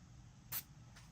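Gold shimmer spray is released in a short, soft hissing burst, followed by a fainter second puff, in an otherwise quiet room.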